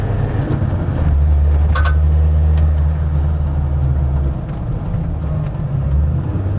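A tuned Land Rover Defender Td5 90 with a Falcon hybrid turbo drives along, its diesel engine a loud close low rumble that swells and eases with throttle, with road and wind noise around it.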